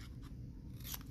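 Scissors snipping a corner off a sheet of paper during a house-making craft, a few short crisp cuts close by with no talk.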